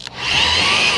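A power drill runs steadily for about a second, driving a screw into an eBay plastic bumper lip, loud and close after a brief start.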